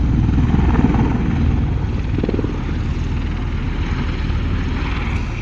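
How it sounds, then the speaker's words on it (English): A V-22 Osprey tiltrotor with nacelles tilted for a short field takeoff at an airshow, its loud, steady rotor and engine drone filling the air throughout. "The pilot's now rotating the nacelles to the 60 degree for the short field takeoff."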